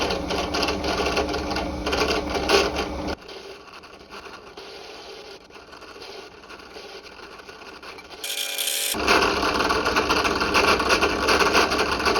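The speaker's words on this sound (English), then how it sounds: "these are all going to be drilled 6BA tapping size" A bench drill bores 6BA tapping-size holes in castings for model locomotive tender frames, producing a steady mechanical whine that drops quieter in the middle and then returns louder and fuller.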